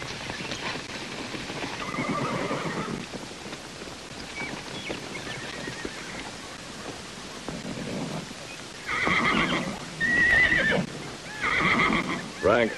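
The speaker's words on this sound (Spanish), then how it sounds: "Ahí viene Frank Cole con sus caballos." Horses neigh loudly in a Western TV series scene, their whinnies rising in several bursts near the end over steady hoof clopping and a background hiss.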